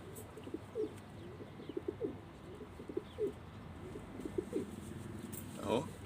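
Pigeons coo in soft repeated low calls over a steady background, several birds overlapping at moderate distance with a brief flutter near the end.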